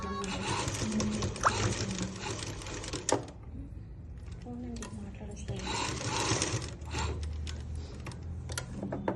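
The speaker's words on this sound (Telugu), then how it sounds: "పాయింట్ క్లాత్ డబల్ కుట్టేస్తున్నా ఒకటి మళ్ళీ ఒకటి." A sewing machine double-stitches thick shirt cloth in two loud, steady bursts of rapid mechanical chatter separated by a brief pause, with a person talking quietly in between.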